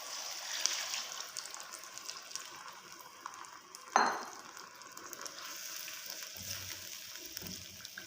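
Onions and masala spices frying in a pan: a faint, steady low sizzle with one sharp utensil clink midway, fairly quiet throughout.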